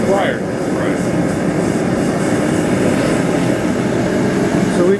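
A high-pressure gas forge burner with no blower roars steadily and loudly throughout, heating knife blanks for a Brute blade, with brief voice fragments faintly underneath.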